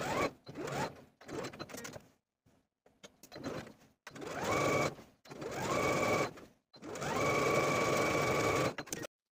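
A sewing machine stitches a dress skirt seam in several bursts, each a rapid mechanical whir that starts, stops and restarts, with short pauses of fabric handling between runs.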